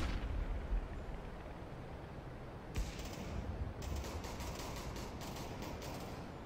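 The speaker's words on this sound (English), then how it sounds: "Deploying flashbang." A flashbang grenade goes off in a competitive Counter-Strike: Global Offensive match: quiet low rumble, then a sharp bright burst followed by a second cluster of crackling bursts, all fairly faint.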